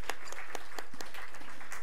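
Applause from a church congregation during a Sunday service, a quick burst of scattered claps, fairly faint and short, with no talking over it.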